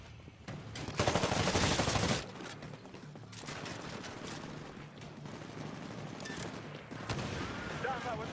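Rapid automatic gunfire from the Titanfall video game, loud bursts with a dense volley early on and continued firing throughout, a voice talking over part of it.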